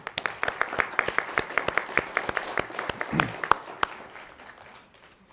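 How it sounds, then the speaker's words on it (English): Applause at a city council meeting, a moderate patter of clapping with several sharp, loud individual claps standing out, fading out over the last second. "you guys should give yourself an applause"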